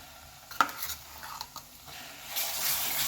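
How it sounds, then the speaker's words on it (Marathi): Ground masala paste being stirred and sautéed in a pan: a sharp utensil clink, a few soft scrapes, then a rising faint sizzle, quiet and close. "दोन ते तीन मिनिट आपल्याला हा छान परतून घ्यायचा आहे मसाला आपण छान परतून घेतलेला आहे"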